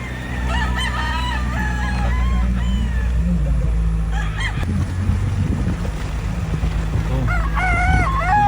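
Several chickens cluck and a rooster crows repeatedly on a gamefowl farm with tethered gray roosters in San Pablo, Philippines, against steady background noise, with some talking underneath.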